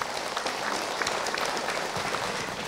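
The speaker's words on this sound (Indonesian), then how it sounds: "Boleh tepuk tangan." Audience applause at an Islamic religious lecture, a dense, even wash of many people clapping for a few seconds, fairly loud and unbroken, with no talk over it.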